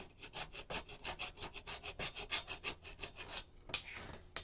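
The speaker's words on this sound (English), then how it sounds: "So you can use this to just scrape the material clean of the scale." Blacksmith scraper blade rasping black scale off hot steel, a quick series of repeated rough scraping strokes, close and fairly loud, with no talk.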